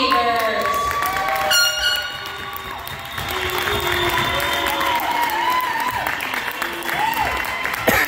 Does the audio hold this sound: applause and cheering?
yes